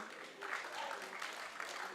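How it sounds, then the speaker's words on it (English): Spectators at the Parramatta Open Age Gold Grand Final between Wentworthville and Mounties applaud steadily and fairly softly for two seconds, with a voice partly audible over the clapping. "give yourselves a round of applause"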